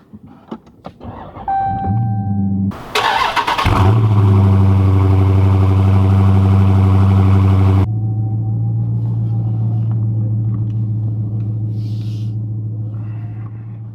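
A 2015 Dodge Charger Scat Pack with about 130,000 miles cranks and bursts to life with a loud, close roar, then settles into a deep, steady idle rumble.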